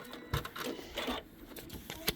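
Sewing machine stitching across a quilt block seam, a close, quick mechanical whirring with rhythmic clatter that pauses briefly and starts again.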